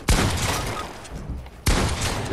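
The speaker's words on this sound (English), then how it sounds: "I'm gonna try out this shotgun" Two sharp, loud shotgun blasts in the video game Fortnite, the first at the start and the second about one and a half seconds later, each trailing into a rumbling noisy decay.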